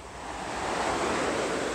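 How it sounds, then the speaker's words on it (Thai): Morning surf and wind on Jomtien Beach in Thailand make a steady, broad wash of breaking ocean waves that swells slightly louder, with no voices. "ฟังเสียงคลื่นเสียงลมด้วยพี่น้องจ๋า"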